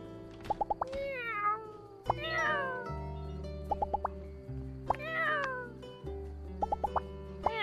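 A cat in the life-sim game My Time at Sandrock gives several clear, fairly loud meows, each paired with short plopping pings and plucked game-music notes over a steady low backing tone.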